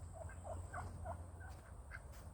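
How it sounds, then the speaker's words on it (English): Turkeys kept in a tractor pen gobbling in a quick series of short warbling calls, fairly close but soft, over a steady low background hum. "Now on to the turkeys"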